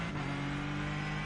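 A Porsche race car in a Daytona racing video game gives a steady, close engine drone with a constant pitch through a short stretch, with no talk.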